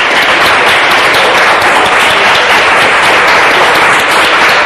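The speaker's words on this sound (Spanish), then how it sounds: "¿Podemos dar un aplauso a Dios por su palabra?" A church congregation breaks into loud, dense applause that fills the space, steady and continuous throughout with no pauses.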